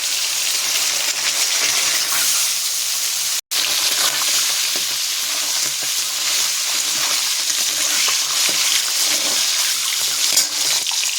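Eggs dropped into hot oil in a pan, a steady loud sizzle and frying hiss that carries on with only a brief break partway through.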